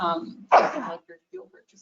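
A single sharp sneeze bursts out during a city council meeting, breaking into a man's speech about budget items before quiet murmurs follow.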